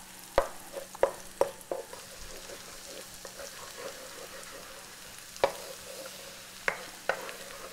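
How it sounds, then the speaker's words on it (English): Aromatics with a pinch of crushed red pepper flakes sauté quietly in a pan for salt and pepper chicken wings, a soft low sizzle punctuated by several sharp clicks and taps of utensil against pan. "We're going to get this all sauteed up."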